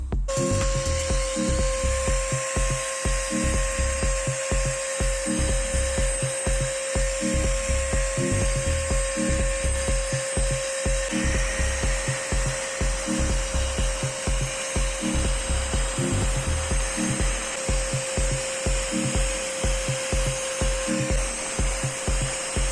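A power tool fitted with a homemade dust attachment and a vacuum cleaner hose runs steadily with a high whine, while a fast rhythmic pulsing churns underneath throughout, close and loud with no voices.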